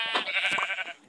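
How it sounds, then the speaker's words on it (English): A sheep in the Minecraft video game gives a single short, bright bleat, close and clear with nothing else around it. "here's a sheep."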